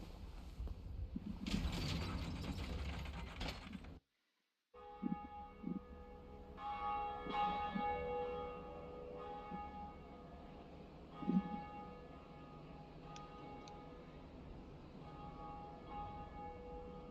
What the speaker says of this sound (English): We'll ring the first bell of awakening.